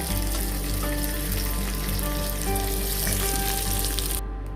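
Vegetables frying in a kadai for kadai paneer, a loud, steady sizzle close by with faint stirring, running unbroken and without voices.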